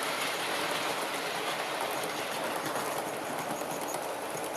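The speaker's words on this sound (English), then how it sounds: "This is the longest train I've actually ever run on my layouts" A long model train with Hornby Gresley coaches rolls along a layout, giving a steady, close whirring hum with light rhythmic clicking from the wheels and track joints.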